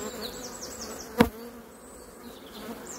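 Honeybees buzzing over an open beehive, a steady close insect drone with higher whining tones from individual bees flying past, plus one sharp brief knock near the middle.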